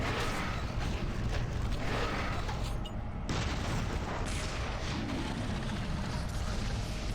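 Dense, continuous barrage of booming shots and heavy blasts from the Cyberdemon in Doom 3, loud and sustained throughout with a brief dip near the middle and no talking.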